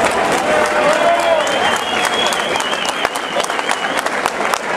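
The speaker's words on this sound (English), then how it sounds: "let's have a nice round of applause for both fighters" Loud crowd applause and cheering at a mixed martial arts event for both fighters, dense continuous clapping from a large audience with a faint announcer-style voice blending in the background.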